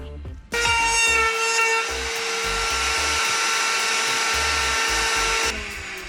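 A power tool whines steadily for about five seconds while routing a shallow recess for a switch into a Sprinter van dashboard; the sound is loud, close and continuous, with a tonal motor pitch that shifts slightly partway through, and no talking.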